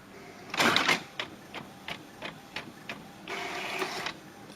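A printer runs a test draft, with a loud burst of feed noise, then a string of short, evenly spaced mechanical clicks and a final whirring pass, close and with no talking.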